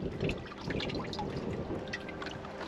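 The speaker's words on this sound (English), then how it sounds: "Just drain the water out" Water drains steadily out of a boat's live well after fish have been bled in it, a low continuous trickling and gurgling wash heard faintly, with no speech.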